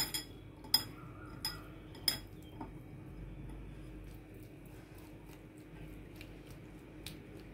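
A spoon clinks against a bowl while mixing paneer with salt, pepper and chilli powder, four sharp metallic taps early on followed by softer scraping and a few faint clinks, no talking.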